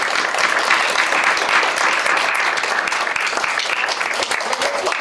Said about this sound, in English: And give them a warm round of applause.